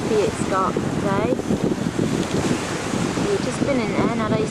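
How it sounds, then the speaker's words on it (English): Wind buffets the microphone at a seaside spot in Swansea with choppy sea waves, a steady loud rushing roar throughout while voices talk intermittently underneath. "See how windy and choppy it's got today."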